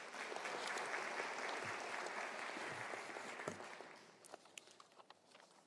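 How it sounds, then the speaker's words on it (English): Audience applause at a university graduation ceremony, a full hall clapping steadily before tapering off into scattered claps and fading out. "Can we give a round of applause?"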